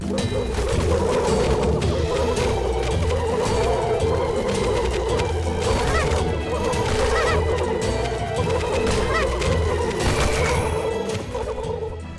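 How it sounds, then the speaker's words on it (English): A dense, chaotic chorus of dozens of clucking chickens in a video game, loud and continuous, with occasional crashes and squawks layered throughout. "nothing comes even close to the mayhem and chaos chickens create when you add like dozens of them"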